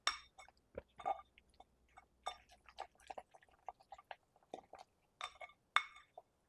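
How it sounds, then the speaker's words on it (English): A spoon scrapes and clinks against a glass jar while a stiff sourdough starter is stirred with flour, soft irregular taps and wet scraping in a quiet room. "So all I'm going to do is gently stir all this around till everything is incorporated."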